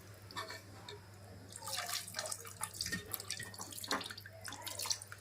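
Water is poured into a curry pot of kandankai kurma, a soft splashing trickle with scattered drips and clinks, fairly quiet over a low hum, no voices.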